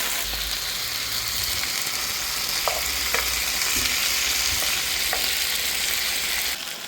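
Potatoes fry with onions in a pan, giving a continuous dense sizzle with a few light stirring knocks, steady and fairly loud throughout with no voices until it drops off at the end.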